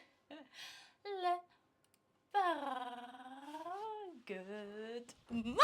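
A cat meows several times in short separate calls, rising and falling in pitch, the longer middle cry drawn out and loud, close by in a quiet room; a voice may be imitating the meow.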